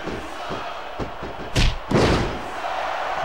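Action figures slammed in a toy wrestling match, a suplex landing as a pair of sharp, loud thuds close together over a steady crowd-like background.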